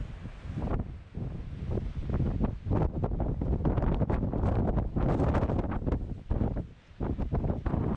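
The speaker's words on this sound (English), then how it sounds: "It's too windy. I'm getting cold." Strong wind buffets the microphone continuously, a loud roaring rush with gusts that swell and dip throughout, near the 3,011-metre summit of Cerro El Caballo in the Sierra Nevada.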